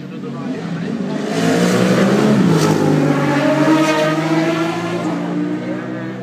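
A Suzuki race motorcycle passes during TT practice at the Raven, its engine note rising into a loud high-revving roar as it closes in and then fading as it pulls away, with a commentator talking over it.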